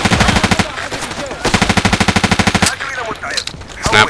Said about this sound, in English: this is an automatic weapon. I'm just burst firing